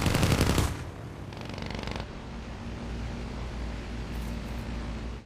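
Machine-gun fire from fighter planes during a 1941 dogfight over Syria involving French fighters and Gloster Gladiators, a loud rattling burst at the start, then a fainter burst, over steady engine drone.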